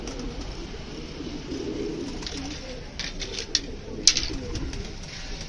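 Soft, low pigeon cooing under a steady background hum, broken by a couple of brief, sharp sounds.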